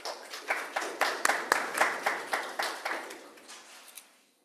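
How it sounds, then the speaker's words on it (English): A small audience at an earth science and artificial intelligence talk claps for a presenter, a thin, distinctly rhythmic patter of a few hands that tapers off and stops. "One more round of applause for him."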